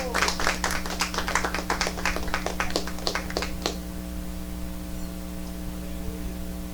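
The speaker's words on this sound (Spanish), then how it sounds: "Dale un aplauso al Señor" A church congregation claps in a brief burst of scattered handclaps over a steady electrical hum, the clapping fading out after a few seconds and leaving only the hum.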